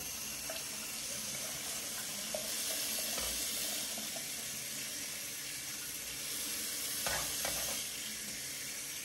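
Cold tap water runs steadily over a holographic self-adhesive vinyl sticker, a continuous close hiss and splash with a few brief louder bursts, no voices.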